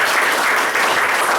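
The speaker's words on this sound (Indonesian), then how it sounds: "Kasih tepuk tangan luar biasa." A brief, loud burst of dense audience applause at a stage event, continuous and close for just over a second.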